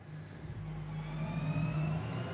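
Onboard engine of a Porsche GT3X race car in the Rennsport video game, a steady droning roar that rises slightly as it accelerates, close and continuous, with no speech.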